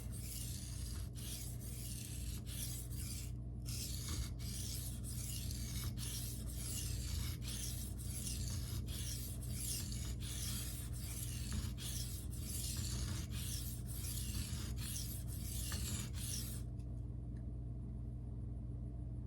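Knife edge being sharpened freehand on Shapton Glass and Naniwa whetstones, a steady rasping rub with repeated strokes in a regular rhythm, close and continuous over a low background hum, stopping near the end.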